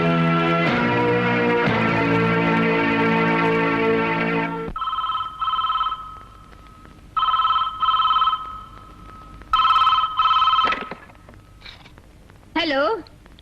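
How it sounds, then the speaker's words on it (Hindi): A telephone in a judge's house rings repeatedly, clear loud electronic trills in evenly spaced bursts with pauses between, following a sustained musical tone at the start. "hello, yes, justice Usha वर्मा's house"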